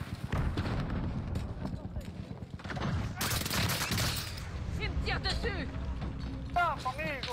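Rapid bursts of gunfire crackle from a video game shooter, fairly faint and mixed with clattering effects while people talk over the action.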